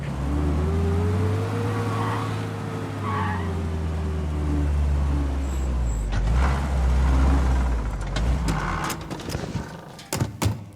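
A car driving in Mafia Definitive Edition, its engine droning steadily and shifting pitch as it accelerates, with tyre skids and a few sharp thunks toward the end.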